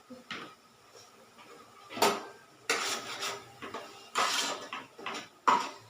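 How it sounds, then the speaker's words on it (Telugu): Utensil scraping and clattering against a pot while fish curry ingredients are stirred together, several distinct metallic clanks and scrapes at irregular intervals, close and moderately loud over a quiet kitchen background. "వేసి బాగా కలుపుకుంటున్నాం"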